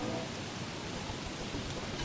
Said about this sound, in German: In der Welt hier regnet es ja generell sehr viel.